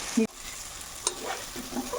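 Baby potatoes fry with a steady, soft sizzle in a pan, broken by a few clinks and scrapes of stirring, with no one talking.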